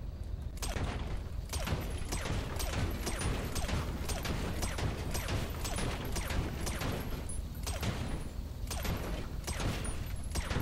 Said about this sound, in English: I'll see how many gunshots they survive.